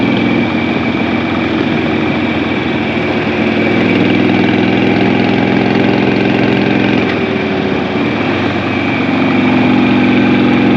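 A 2006 Harley-Davidson Sportster with a carburetor and a new, less restrictive air cleaner rumbles steadily while being ridden on a winding country road, loud and continuous for the whole stretch, with wind noise and no speech.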